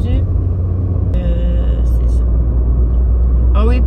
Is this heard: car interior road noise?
yes